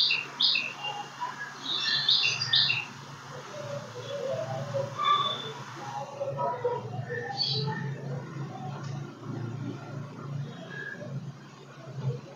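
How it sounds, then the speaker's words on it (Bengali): Several birds chirp and twitter outdoors during a spell of on-and-off rain, their calls bright and busy at first and then thinning to scattered tweets over a steady low background hum. "দেখছো পাখি কেউ সুন্দর কিচিরমিচির"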